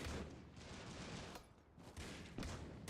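Pistol fire from the mobile shooter Critical Ops during a tournament match crackles in several loud bursts and single shots, dense and rapid, with brief lulls between volleys.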